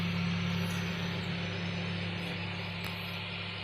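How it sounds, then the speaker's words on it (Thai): A steady whirring egg incubator fan drones on without pause, a constant mechanical hum with a faint rattling texture and no voices. "เสียงพัดลมทำงานครับผม"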